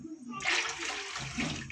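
Water is poured from a vessel into a pot of tamarind rasam, a brief rushing splash that starts abruptly, close by and alone.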